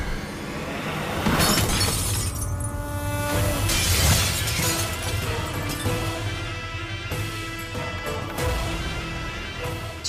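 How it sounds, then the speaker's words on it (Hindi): Glass shatters in a loud crash, followed by sustained ringing, crashing debris and dramatic tones over ten seconds. "शीशा टूट गया"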